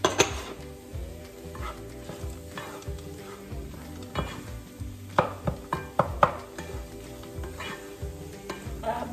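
Dates and chopped pistachios being stirred in butter in a pan, with a soft sizzle under repeated scrapes and clinks of a spoon against the pan, growing into sharper knocks toward the end.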